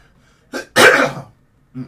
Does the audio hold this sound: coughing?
yes